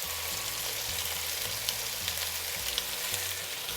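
Sliced garlic and spring onion frying in a pan, giving a loud, constant hiss and crackle with a low rumbling undertone throughout and no voices.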